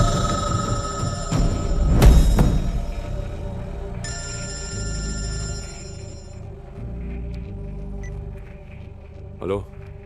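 A telephone rings in a tense film scene, its electronic bell sounding in clear bursts over a low rumbling score.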